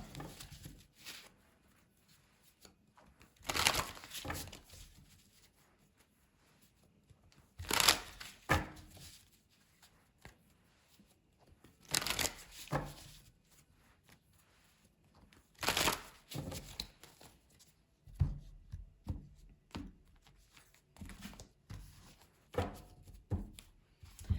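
Tarot card decks being shuffled, short riffling bursts and soft slaps of cards repeating every few seconds with quiet pauses between, close and clear.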